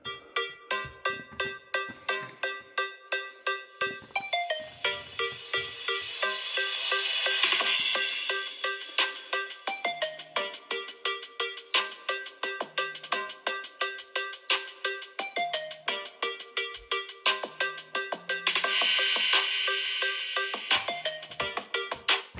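Music plays at maximum volume through the bottom speaker of a Samsung Note 8 phone, a bright, clicky melody with crisp percussive hits in a steady rhythm, thin on bass and heard close with no talking.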